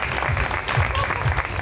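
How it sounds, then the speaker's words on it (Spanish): Audience clapping at a youth gala final, a dense steady patter lasting under two seconds with a low murmur beneath it. "si quieren aplaudir, aplauden, no pasa nada"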